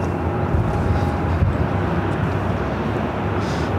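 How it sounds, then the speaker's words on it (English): A Boeing 747-8 arriving from Seoul at Los Angeles International Airport gives a loud, steady low jet roar that holds throughout, with a faint tonal whine riding above it. "All right, up next, Green Air Flight 11, the 747-8 coming in from Seoul."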